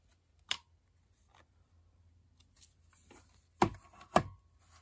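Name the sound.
scissors cutting scrap material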